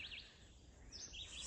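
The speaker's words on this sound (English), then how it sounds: "I love the sounds of birds chirping" Birds chirp outdoors in short high twittering bursts, faint and somewhat distant over a soft background hum.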